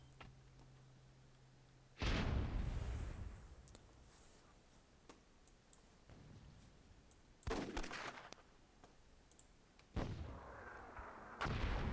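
Cannon fire in the Myth II Soulblighter game sounds as several sharp booms spaced a few seconds apart, each with a decaying rumbling tail, fairly faint overall against a quiet background.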